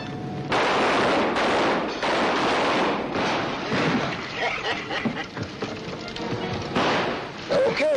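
Gunfire from a 1943 western film set in a rainy frontier scene, dense and continuous bursts of shots with thuds and echoing impacts under music, fairly loud throughout.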